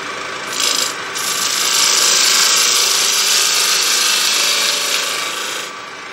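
A wood lathe spins a punky, cracked bowl blank while a scraper cuts it, giving a steady, close, loud raspy hiss for several seconds that fades slightly near the end.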